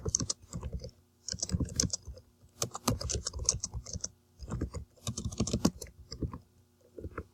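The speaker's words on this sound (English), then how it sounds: "Let's type that up." Computer keyboard typing, rendered as close bursts of rapid clicking keystrokes that pause and resume several times, moderately quiet and with no speech.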